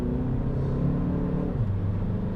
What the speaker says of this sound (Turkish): Dip gaz yapıyorum.